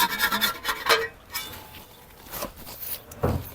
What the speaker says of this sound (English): And here's where you want to start scraping off.